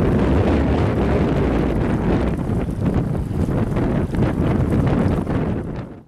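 Strong, steady wind roars and buffets the microphone throughout on a river during kayak fishing, a loud continuous rush that fades out at the very end.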